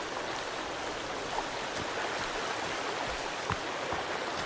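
A river flowing in the video game Sons of the Forest, a steady broadband rush of water running continuously and fairly loud, with no voices over it.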